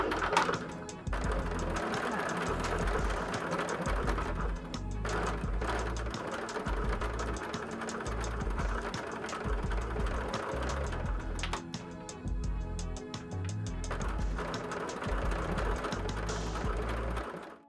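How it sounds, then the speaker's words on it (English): A sewing machine fitted with an open toe foot stitches through rickrack trim on a fabric book cover, running with a steady rapid mechanical whir and clatter, briefly pausing and restarting. "I'm using an open toe foot to still stitch it all together with, just because I like to see where I'm stitching."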